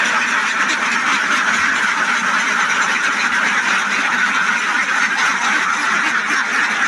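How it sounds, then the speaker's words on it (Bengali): Ducks on a duck farm give a dense, continuous chorus of quacking from many birds at once, loud and steady throughout as they are let out toward a pond. "এই যে হাঁসটি এখন বাইরে নিয়ে যাচ্ছে পুকুরে"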